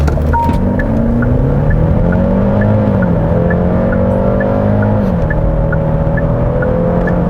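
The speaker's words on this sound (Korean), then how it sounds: "스포츠 플러스에서 런치 컨트롤로 한번 시작을 해보겠습니다" A Genesis GV70 2.5 turbo launches in Sport Plus with launch control, its engine note climbing loudly through several gear shifts, each one marked by a brief dip before the pitch rises again.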